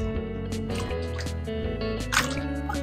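Rice for rice pudding is rubbed and rinsed by hand in water, giving close, wet squishes, drips and sloshes in an irregular rhythm with no voices.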